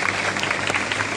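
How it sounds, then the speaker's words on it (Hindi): Applause at a school Independence Day celebration, a dense, steady patter of many hands clapping at once and holding level throughout the moment. "जोरदार तालियां।"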